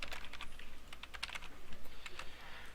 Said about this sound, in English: you can start typing your paper.